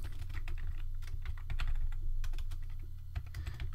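Fast, steady typing of code on a computer keyboard, close and clear, with dense clicking keystrokes and no talking.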